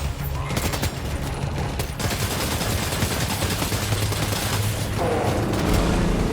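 Sustained assault rifle fire in the video game Death Stranding 2 during an ambush, a dense, loud, continuous rattle of automatic shots with booming impacts layered throughout.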